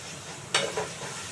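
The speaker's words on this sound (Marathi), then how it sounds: "छान तेलात चांगलं परतून घेतलेलं" Masala paste of ginger-garlic and ground spices sizzling and sautéing in hot oil, a short burst of frying hiss with a stir, close and clear.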